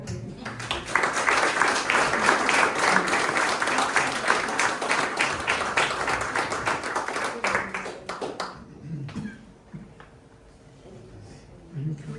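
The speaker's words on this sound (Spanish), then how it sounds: "os pido un fuerte aplauso para decir a Laura Lee" Audience applause at a painting exhibition, a dense burst of clapping close by that carries on for several seconds and then dies away into quiet room tone.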